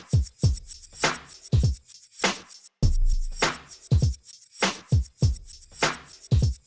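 Reversed shaker sample in Ableton, a run of short swelling whooshes that rise and cut off abruptly in an uneven rhythm, loud and close with no voices.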